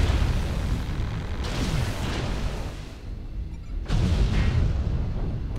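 Continuous barrage of missile explosions and booming impacts in MechWarrior Online, a dense rumbling roar with a brief dip before another loud surge of blasts.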